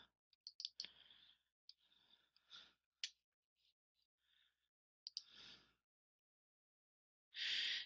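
Computer mouse clicks come in scattered short taps, close and fairly faint, with quiet gaps and a louder burst of noise at the end.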